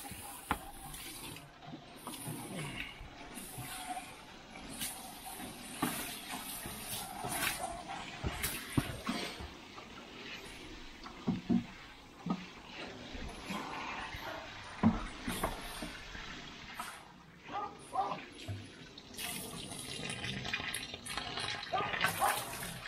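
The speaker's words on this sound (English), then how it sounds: "So before I start adding anything on the top, I'm going to water this in." A dry allotment soil bed, unwatered through winter, is soaked with water poured or sprayed steadily across it outdoors, a continuous splashing hiss with small irregular bursts and no talking.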